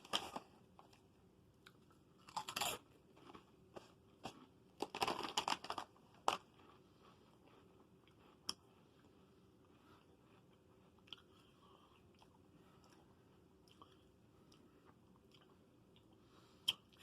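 Japanese Lay's cucumber mint potato chips crunch in a few sharp bursts of biting and chewing, close and fairly quiet, with long hushed gaps between the crunches.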